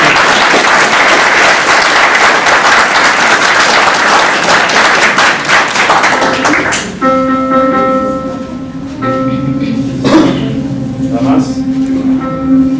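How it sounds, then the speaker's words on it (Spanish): A university choir's audience breaks into loud, sustained applause for about seven seconds, then the clapping thins out as a sustained musical tone and scattered sounds take over. "les pido un fuerte aplauso."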